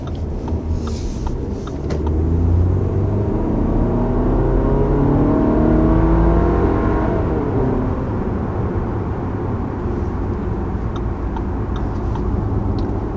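A 2021 Audi Q5 accelerating, heard from inside as a smooth engine hum that rises and swells for several seconds, then eases back with steady road noise and faint ticks.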